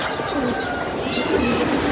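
Pigeons coo softly in a loft, low murmuring calls blending into a dense, steady background of rustling and ambient noise, fairly close but not prominent.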